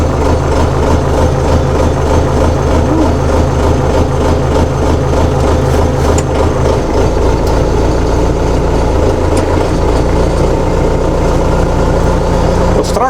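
A 360 tractor engine starts and runs, heard from inside the cab as a loud, continuous heavy rumble that shifts into a steadier idle partway through, with a voice over it.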